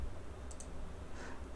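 A computer mouse click while working in AutoCAD 2024, a faint double click near the middle and a softer tap shortly after, over a low steady background hum.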